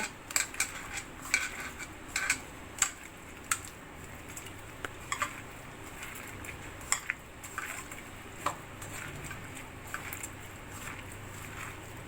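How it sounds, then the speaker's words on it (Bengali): Fish eggs and onion being squeezed and mixed by hand for pakora, with soft wet squishes and scattered clinks of a bowl or utensil repeating quietly throughout, no talking. "এবার ভালো করে আমি মেখে নেব আগে পেঁয়াজটাকে ভালো করে চটকে নেব"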